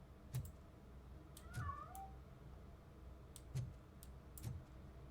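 A cat meows once in the RoboCop Rogue City video game, short and fairly faint, between regular heavy footsteps in a quiet room.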